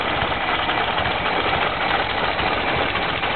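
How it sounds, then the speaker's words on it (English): Original cast-iron-piston engine of a 1927 Ford Model TT wrecker truck running steadily, a continuous close, loud idling drone with a rough, knocking vibration and no talk. "Original engine. Just gone through, but not necessarily overhauled."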